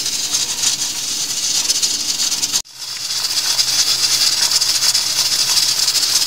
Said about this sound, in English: We have a slow rhythmic jiggling of our pressure controller.